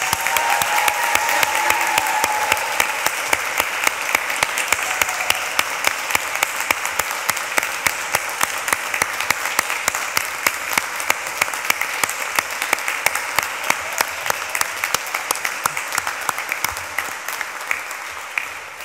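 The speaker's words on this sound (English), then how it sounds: "go on, I think we should give them a massive clap" Graduates at a University of Greenwich ceremony are applauded with sustained, dense clapping from a large crowd, steady and loud throughout with no talk over it.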